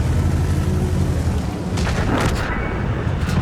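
Cannon fire from the Grille self-propelled artillery in World of Tanks, heard as a dense, loud rumbling boom with layered blasts building in the middle of continuous low battle noise.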